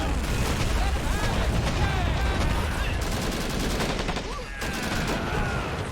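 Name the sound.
grenades exploding over wall in Men of War: Assault Squad 2 video game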